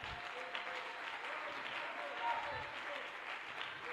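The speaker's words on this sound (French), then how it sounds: "Est-ce qu'on peut acclamer le Seigneur?" A church congregation applauding and cheering during a revival service, a dense continuous wash of clapping with voices mixed in, steady and moderately distant.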